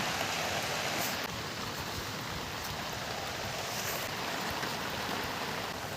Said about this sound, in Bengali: এখানে 3 চামচ কালো সর্ষে নিয়ে নিয়েছি, জল দিয়ে ধুয়ে নিচ্ছি